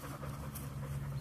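A puppy pants softly and steadily while trying to grab a bone, a faint, close, continuous breathy rasp with a low hum underneath and no talking.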